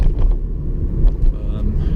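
A car on a driving test route in Morden accelerates in third gear, building speed, with a steady low engine drone mixed with road rumble and wind buffeting throughout.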